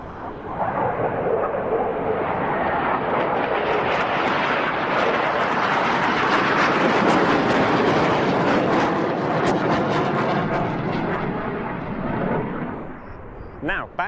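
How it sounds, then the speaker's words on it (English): Display team jets flying formation manoeuvres at the Royal International Air Tattoo 2022 air show, a loud continuous broadband jet roar sustained throughout, fading slightly near the end. "we have those other four aircraft running in"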